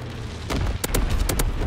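Explosions from a low-altitude incendiary bombing run in Call of Duty WWII, a rumbling low roar punctuated by several sharp cracking blasts in quick succession, moderately loud.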